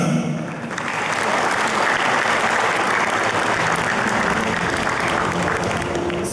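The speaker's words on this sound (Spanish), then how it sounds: "El aplauso para Upisa." An audience at the official opening of AgroShow Copronar 2023 bursts into applause for Upisa, the clapping swelling within the first second into a loud, sustained, dense roar of hands that holds steady to the end.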